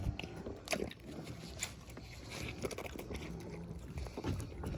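A goat chews juicy watermelon up close on a farm, with wet crunching bites and squishy smacking repeating steadily at low volume.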